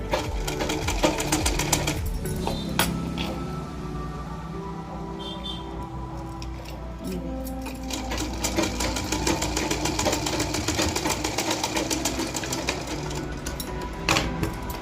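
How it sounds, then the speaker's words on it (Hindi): A sewing machine stitches blouse fabric in a steady, continuous mechanical whir that runs loud and close for the whole stretch, with brief changes in pace as the cloth is guided and pressed along. "इसके बाद अपन इसको सिल लेते हैं।"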